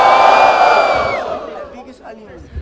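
A crowd at a Brazilian rap battle cheers for a rapper, a loud burst of whoops and cries that fades over a couple of seconds, with a voice shouting over it.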